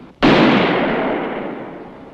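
A single loud handgun shot at shooting practice, sharp and close, followed by a long decaying echo, with no talk.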